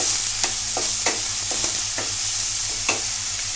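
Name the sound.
stirring onions frying in pan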